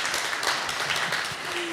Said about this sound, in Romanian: să aplaude cei care doresc să începem această ediție a forumului cât mai repede